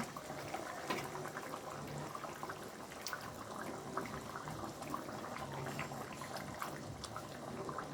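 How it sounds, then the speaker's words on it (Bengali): Fish curry gravy with raisins bubbles in a pan, a dense continuous simmer of small pops and gurgles, close and steady, with no one talking. "আমার ঝোলটা ফুটছে।"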